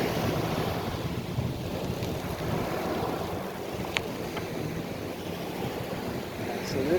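Surf rolls continuously onto Fort Myers Beach, where waves about three feet high break in close succession, a broad steady wash blended with gusty wind buffeting the microphone.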